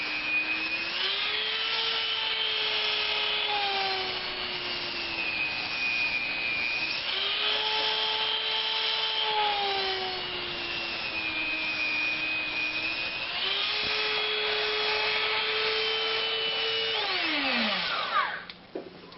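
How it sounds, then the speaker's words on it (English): A Dremel rotary tool carves bolt details into EVA foam for a prop cloud sword. Its high motor whine runs steadily and close for almost twenty seconds, dipping and rising in pitch as it bites into the foam, then winds down at the end. "If you try just jabbing the Dremel into the EVA foam, it will skip and mess it up."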